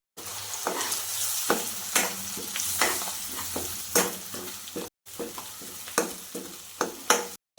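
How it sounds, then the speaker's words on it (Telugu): Leftover masala and curry leaves frying in oil in a kadai, steady crackling sizzle with regular stirring scrapes and spoon taps, fairly quiet and close, with a brief cut near the middle. "మసాలాను వేసుకొని ఫ్రై చేసుకోవాలి."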